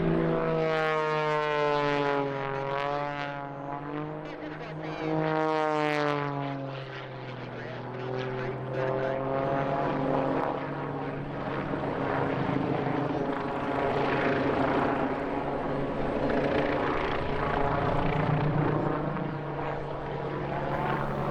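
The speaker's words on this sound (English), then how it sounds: "the Red Bull BO-105 helicopter" BO-105 helicopter rotor and engine noise close by during an aerobatic display at an airshow, pitch sweeping up and down as it manoeuvres, loud and continuous, with a voice talking over it.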